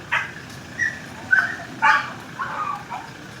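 A dog gives a series of short, high yips and whimpery barks, spaced about half a second apart, close by against a faint background hiss.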